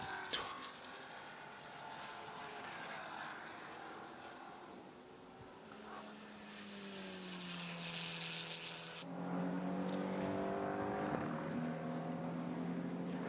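Porsche GT4 race cars lapping the Nurburgring in qualifying, engines rising and falling in pitch as they pass, with a louder car sweeping through near the end over steady track noise.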